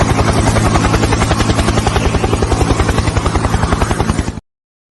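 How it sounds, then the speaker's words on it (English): A helicopter is heard up close, its loud rapid rotor chop thumping steadily for several seconds before cutting off abruptly, with no voices. "The chopper's here now."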